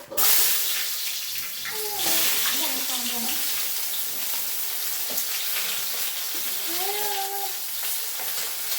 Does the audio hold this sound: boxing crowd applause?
no